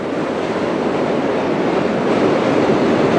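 A westbound Canarsie Line subway train bound for 8th Avenue starts up a hill near East New York in New York, a steady, loud rumble and rolling roar of rail cars with no speech.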